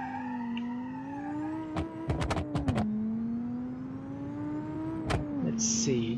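A supercharged car engine in a video game drones steadily with a few rapid popping bangs from the exhaust, then a later burst, over a low background hum.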